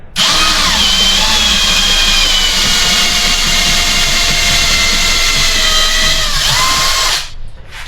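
A loud, continuous power-drill whine as a brand new bit drills steel on a 242 transfer case slip yoke eliminator, holding steady for several seconds before cutting off sharply near the end.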